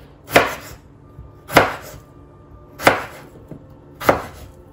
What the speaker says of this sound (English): So now what you're going to do is take this and just chop them